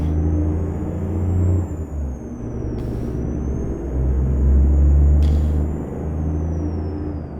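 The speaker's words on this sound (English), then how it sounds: "I'm going to punch the throttle." A heavy truck engine in American Truck Simulator, fitted with the Steele Productions engine pack, is pushed to full throttle, with a loud deep diesel rumble surging and building, a high whine above it and two brief hiss bursts.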